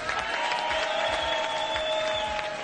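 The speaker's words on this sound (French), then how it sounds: "On applaudit Laetitia et Benoît." Studio audience of a French TV word game show claps in a short, even burst of applause, with steady tones from the show's music running underneath.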